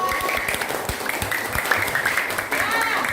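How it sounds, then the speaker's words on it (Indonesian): A classroom of young students claps for a classmate named Intan after she leads the group, brisk continuous applause from many hands, close and lively, with some voices mixed in. "Tepuk tangan dulu untuk Intan."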